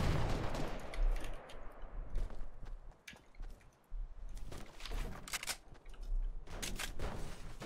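A Fortnite match produces repeated bursts of gunfire, sharp loud cracks arriving in clusters with short quiet gaps between volleys, fairly close.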